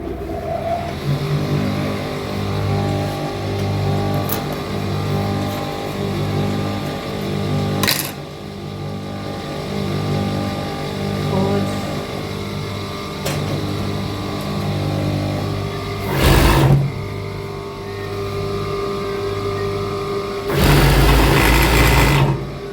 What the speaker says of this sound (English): So I'll use my cover stitch machine to do that.